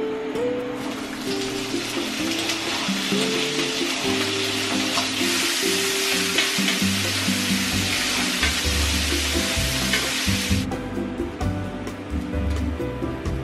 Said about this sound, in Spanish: lo único que voy a hacer ahora es saltear esta carne un poco en la sartén para dorarla un poquitín